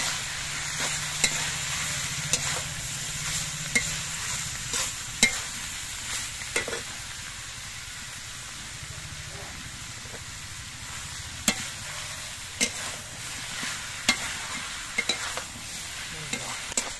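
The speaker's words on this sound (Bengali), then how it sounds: "এবার এর মধ্যে আমি সর্ষে বাটা দিচ্ছি। সর্ষে বাটা দিয়ে নেড়ে চেড়ে মিশিয়ে নেব।" Cauliflower stalks being stirred with mustard paste in a pan, a soft steady sizzle with repeated scraping strokes of the spatula, close and without talk.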